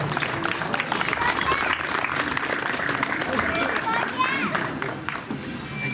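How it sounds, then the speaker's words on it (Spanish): Crowd applause and cheering at a jaripeo in Las Pintas de Arriba, Jalisco, a broad sustained wash of clapping mixed with crowd noise and voices for a charro. "Dale un aplauso para Tello"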